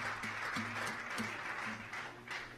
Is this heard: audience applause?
yes